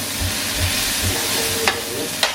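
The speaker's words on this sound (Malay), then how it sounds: "Kita kacau lagi" Sambal frying in a pan while being stirred, giving a steady loud sizzle with soft rhythmic scraping strokes and a couple of sharper clinks near the end, without talking.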